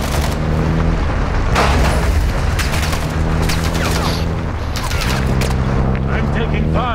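Call of Duty Modern Warfare 2 (2022) gameplay with steady bursts of gunfire and booms over a dense, loud battle din, while players talk over it throughout.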